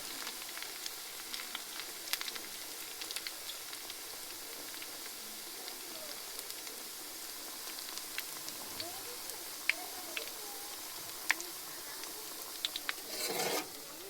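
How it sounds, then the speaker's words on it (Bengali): Flower pitha, a Bengali fried cake, bubbling in hot oil in a kadai with a soft, steady crackle and scattered small pops, fairly faint, with a brief louder rustle near the end. "এই যে পিঠেটা দিয়েছি তো তেলে বুঝবুঝি উঠতেছে"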